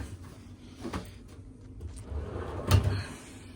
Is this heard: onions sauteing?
no